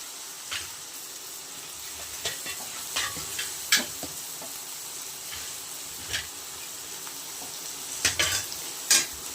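Finely cut tomato pieces fry over turmeric in a pan, giving a soft steady sizzle with scattered scraping and clinking stir strokes.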